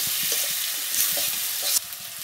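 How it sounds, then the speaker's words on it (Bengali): Onions frying in oil in a pan on a clay stove, a constant close crackling sizzle with soft stirring scrapes and a brief louder surge near the end. "এখন পেঁয়াজটা একটু বাদামি কালার করে ভেজে নিব"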